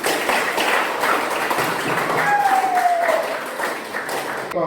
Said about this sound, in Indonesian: Jadi mari kita memberikan aplaus untuk kita semua.